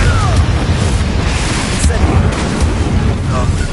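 Confringo blasting spell explosions in Hogwarts Legacy, loud booming bursts and crackling impacts mixed with spell effects, with speech heard alongside the blasts.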